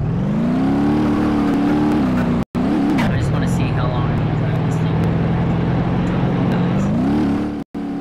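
A small truck's engine drones loudly in a driving video game, its pitch climbing and dipping with revs before settling into a steady hum, broken by two brief cutouts.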